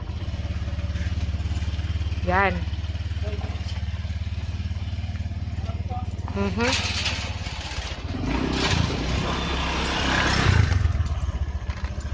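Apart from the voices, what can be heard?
heavy motorcycle with a box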